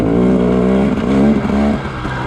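An enduro motorcycle engine runs loudly and close with a steady buzzing drone and slight shifts in pitch as the throttle varies, heard alone without talk.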